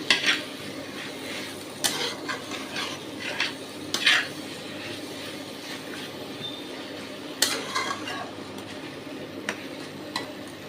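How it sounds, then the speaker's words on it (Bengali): A fried hilsa fish head and taro stolons are stirred in a pan, with a soft sizzle underneath and scattered clinks and scrapes of the utensil against the metal. "খুব ভালো করে নাড়াচাড়া করে নিয়েছি"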